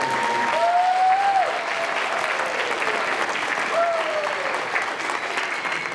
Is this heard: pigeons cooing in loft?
no